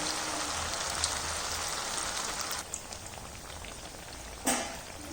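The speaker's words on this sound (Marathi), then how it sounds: "आता हिला आपण मध्यम गॅसवरती लालसर होईपर्यंत आपण इथं तळून घेणार आहोत" Grated raw potato snack deep-frying in oil over a medium gas flame, a dense continuous hiss and bubbling that thins out partway, with a brief clatter near the end.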